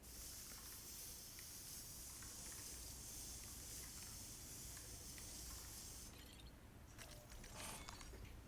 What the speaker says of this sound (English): Container repair spray.